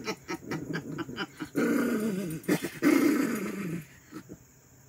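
A dog growls close up in low, rumbling bursts that rise and fall over a few seconds, with a brief whimpering edge between them.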